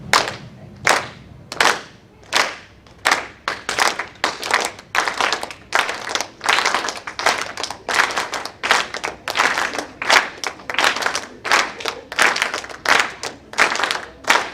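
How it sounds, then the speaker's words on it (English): An awards ceremony audience claps together in a steady, brisk rhythm, the crisp slaps continuing nonstop for several seconds, loud and close. "Continue clapping."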